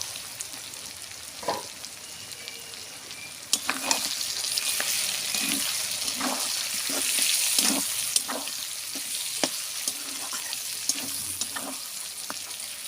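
Onions frying in a pan for mango achari chicken, with a steady close sizzle and irregular scraping stirs of a spatula throughout, no voices.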